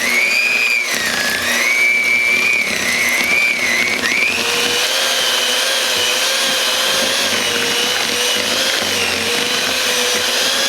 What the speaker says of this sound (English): And we just get the blender and start blending it together.